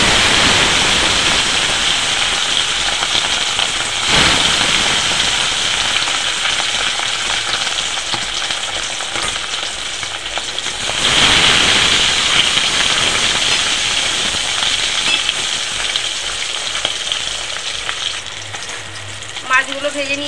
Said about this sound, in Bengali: তেল গরম হয়ে গেছে। নুন হলুদ মাখানো মাছ দিয়ে